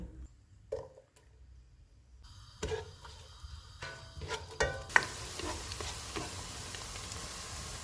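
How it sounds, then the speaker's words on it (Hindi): A chopped onion goes into hot oil with cumin, cloves and black pepper, first faint clinks and stirring, then a sudden loud close sizzle that keeps hissing steadily, with no talking. "1 प्याज डालेंगे, इसको 3 से 4 मिनट तक भूनेंगे।"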